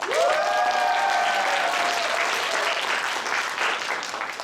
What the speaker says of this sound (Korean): 여러분들의 큰 함성과 박수로